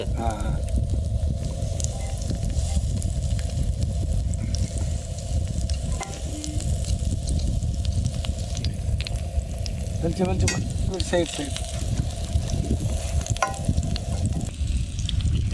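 Mutton tikka fries in oil on a tava with a steady, dense sizzle and crackle, heard up close for the whole stretch, with occasional scraping stirs and voices partly audible under the frying.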